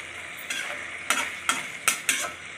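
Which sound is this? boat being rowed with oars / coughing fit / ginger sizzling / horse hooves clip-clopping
ginger sizzling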